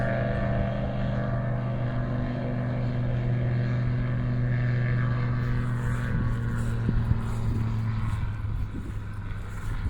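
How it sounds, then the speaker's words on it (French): A seaplane revs for takeoff on a lake at Villefranche-de-Panat, a steady droning propeller engine with a strong low hum, fairly close and continuous, rising slightly toward the end. "Et voilà, l'hydravion qui va décoller."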